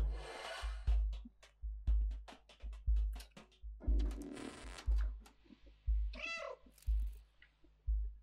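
Cats in the video game Stray, a close, repeated meowing over a steady rhythmic pulse of game music, with some rubbing and shuffling noises and one higher yowl near the end.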